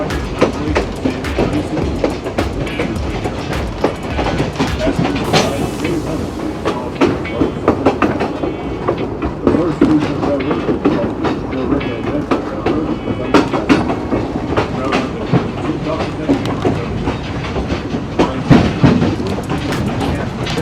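A narrow-gauge passenger train runs steadily on its rails, with loud continuous rumble and rhythmic clickety-clack of wheels over joints throughout, heard from on board.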